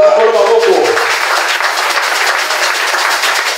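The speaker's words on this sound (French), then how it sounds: "Est-ce que nous pouvons applaudir pour le Seigneur?" A church congregation bursts into applause, a loud, dense patter of many clapping hands that fills the room and holds steady without letting up, with a voice audible over it at the start.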